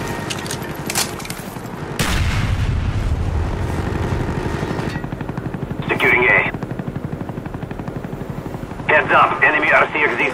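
Cobra attack helicopter in Call of Duty: Black Ops during a Domination match: a loud, steady rotor chop pulses through the middle, with bursts of gunfire and in-game voice lines over it.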